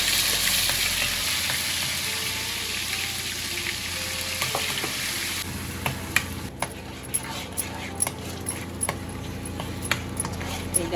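Ground garlic, ginger, chili and coriander masala paste is sautéed in a pan, with loud frying sizzle at first, then quieter frying marked by repeated sharp clinks and scrapes of a stirring utensil.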